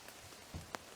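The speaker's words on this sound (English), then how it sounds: "Get out of the rain for a second." Rain falls steadily outside on a homestead amid an old feral plum patch, a soft, faint patter with a couple of brief louder drips.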